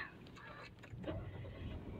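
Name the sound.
Mitsubishi Xpander Ultimate CVT engine starting via start button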